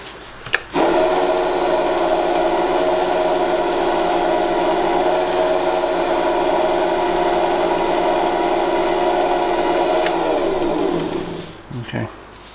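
A wood lathe spins steadily at high speed while a pen blank is polished after a melamine finish, a loud sustained whine with a steady hum that starts abruptly and winds down near the end, followed by a few faint knocks.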